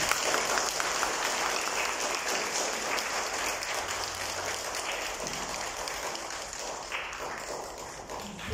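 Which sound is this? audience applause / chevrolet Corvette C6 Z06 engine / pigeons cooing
audience applause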